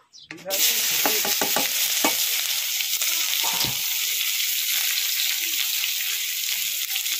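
Chopped onion hits a little oil left from frying fish and erupts into a loud, continuous sizzle that holds steady, with a few spatula scrapes and stirs near the start.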